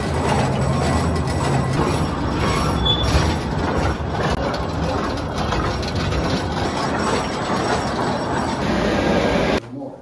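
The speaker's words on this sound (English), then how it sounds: "All right, we're going back on the train." The Queen Mine tour train in Bisbee rumbles along underground, a loud continuous clattering and mechanical grinding with faint squeals, cutting off abruptly near the end.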